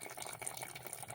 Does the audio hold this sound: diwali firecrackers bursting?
no